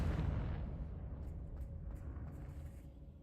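A Confringo blasting spell explodes in a wizarding video game, a loud broadband boom at the start that decays into a rumbling tail and lingering low hum.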